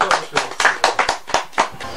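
A handful of people clap at a Sylhet drama gathering, a quick uneven run of close, sharp hand claps about four per half second, with voices mixed in underneath.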